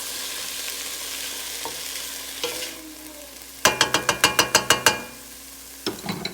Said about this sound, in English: We're going to let this saute a little bit longer.